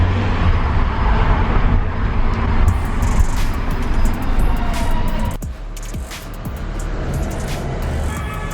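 Heavy road traffic rumbles in a jam, a loud continuous low engine drone with scattered clatter and brief hisses, easing slightly in level partway through.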